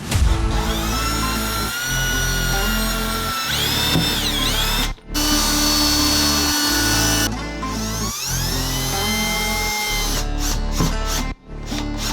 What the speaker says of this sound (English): now I'm just going to drill my pilot holes